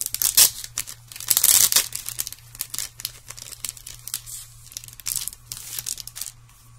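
A crinkly paper pad from a card kit is handled up close, producing repeated loud crinkles and rustles in irregular bursts, with a low steady hum underneath.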